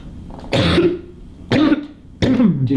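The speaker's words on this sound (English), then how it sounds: "I'm having a coughing fit." Three harsh, raspy coughs in a row, close and loud, each burst followed by a brief throaty tail, with short pauses between them.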